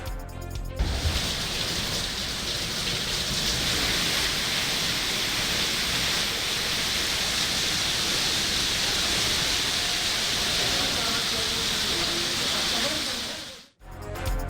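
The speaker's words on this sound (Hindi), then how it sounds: "कराची के मुख्तलिफ इलाकों में अलग सुबह से हल्की और तेज बारिश का सिलसिला वक्फे वक्फे से जारी है।" Rain falls in Karachi with a dense, even hiss of drops hitting surfaces. It sounds close and constant for about thirteen seconds, then cuts off abruptly.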